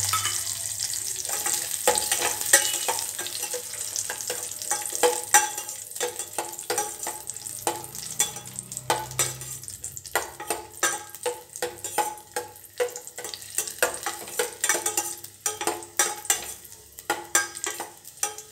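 Raisins sizzle and fry in a pan for aval payasam, with steady crackling and spattering and frequent stirring scrapes close up, continuous throughout with no talking.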